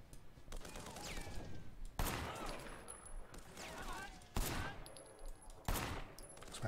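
Gunfire in the video game Sleeping Dogs comes as several sharp, loud shots spaced a second or two apart, each with a quick decaying tail, amid background game effects and occasional voices.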